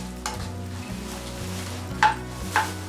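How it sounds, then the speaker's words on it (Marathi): Dry fruits such as cashews frying crisp in a pan over a low flame, a steady soft sizzle with two sharp clinks of stirring near the end and faint music running underneath. "लो फ्लेमवरती मस्त क्रिस्पी असे ड्रायफ्रुट्स भाजून घ्यायचे आपल्याला"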